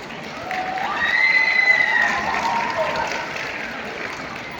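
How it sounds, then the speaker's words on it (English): Crowd applause at a school annual prize ceremony in a large hall, a broad sustained clapping that swells in the middle and holds steady, with faint cheers and voices mixed in. "Please give them a big round of applause."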